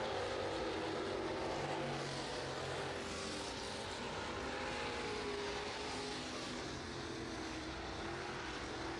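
A stock car, the black and green number 99, runs a fast lap at Cochran Motor Speedway in Cochran, Georgia, its engine roaring steadily and loud throughout with broad, continuous noise and no pause.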